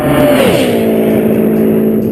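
A land speed record car at Bonneville Salt Flats accelerates hard, its engine note steady and loud and dropping as it shifts, close and continuous with no voices.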